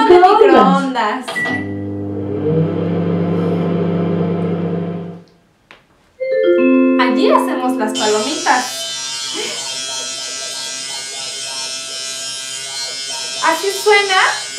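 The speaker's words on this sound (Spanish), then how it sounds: "Así suena cuando papá se rasura. Afeitadora eléctrica." After a lower mechanical hum and some speech, an electric shaver buzzes steadily and loudly for several seconds, close up, with voices around it.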